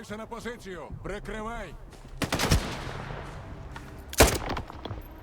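Gunfire in the video game Stalker 2, two sharp, loud shots a couple of seconds apart, each with a short rumbling tail, following a stretch of speech.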